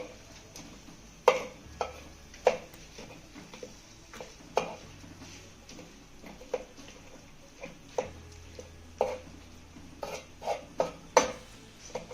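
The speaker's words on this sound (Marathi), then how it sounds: "तांब्याच्या साह्याने याला जाडसर असं रगडून घ्यायचं आहे" A copper pot coarsely crushes a drumstick bharit mixture, giving quiet scraping and grinding with sharp intermittent knocks and clinks against the vessel, spaced irregularly through the stretch.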